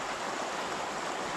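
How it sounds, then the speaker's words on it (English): Water rushes over small winter rapids near Canyon Falls in Baraga County, Michigan, a steady, broad hiss of flowing current heard close and unbroken. "kind of that nice sound of water"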